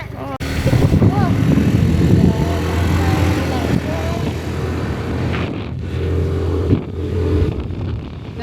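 A Benelli Panarea scooter engine runs steadily on Pangkor Island, a loud close drone mixed with wind buffeting, while people talk over it.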